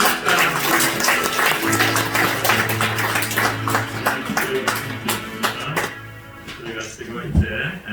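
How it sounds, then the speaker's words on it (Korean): A church congregation at an ordination service for elders, deacons and deaconesses claps during an embrace, a brisk, crowded patter of many hands with some voices underneath, thinning out toward the end. "안아주실 때 박수 한번 칩시다."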